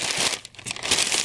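Packing paper crumples and crinkles loudly and close while toys are unboxed, with a brief pause midway before the rustling resumes, and no talking.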